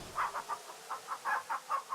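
Chickens at a coop in the King's Quest III adventure game give about nine quick, evenly spaced clucks in a soft, simple rhythm.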